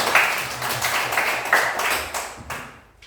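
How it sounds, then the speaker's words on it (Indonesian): Classroom applause for a student group, a short burst of many hands clapping that holds steady for a few seconds and then tapers off toward the end. "kita tepuk tangan untuk kelompok 2"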